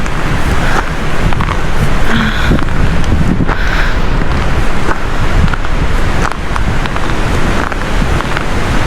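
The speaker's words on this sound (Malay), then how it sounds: "bunyi angin tu macam bunyi air" Steady, loud winter wind in Korea roars across the microphone without pause, a rushing broadband noise that sounds almost like water.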